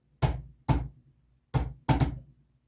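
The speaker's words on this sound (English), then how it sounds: "someone almost like knocking" Knocking in a supposedly haunted house: two separate double raps, four sharp close thuds with a resonant, wooden body against a quiet background, with no voices.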